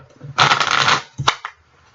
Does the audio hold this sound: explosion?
no